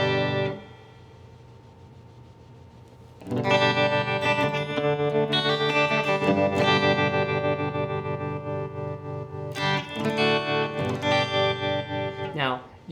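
Electric guitar played through the AmpliTube app on an iPhone via iRig, with tremolo and reverb effects: a quiet opening chord, then loud sustained strummed chords with pulsing, echoing texture and distortion.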